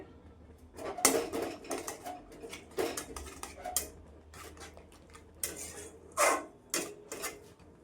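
Grape chutney being stirred in a pan in a home kitchen, giving soft scraping and clinking of a spoon against the pan in irregular bursts, fairly close and moderately quiet, with no voices.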